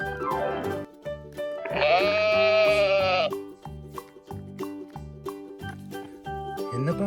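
A farm animal sensory toy gives a sustained, wavering sheep bleat, loud and close, over a light repeating tinkly electronic tune.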